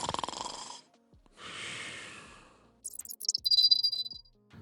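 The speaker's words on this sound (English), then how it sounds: "You can even record your snores if you like." Snoring captured by a phone microphone for Samsung Galaxy Ring snore detection: a few slow, raspy breaths in and out, alone and fairly close, separated by brief quiet gaps, with a faint thin tone near the end.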